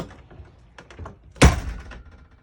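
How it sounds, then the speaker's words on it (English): An RV entry door fitted with a latch.it keyless lock shuts with a single solid thunk close by, after a few light taps and rustles. "we just want to double check to make sure that the door closes and stays closed"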